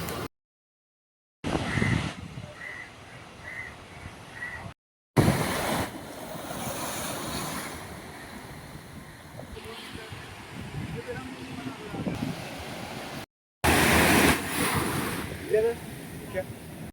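Waves wash onto a beach in Kerala, a broad rushing surf roar mixed with wind buffeting the microphone, broken by brief silent cuts, with faint voices at times.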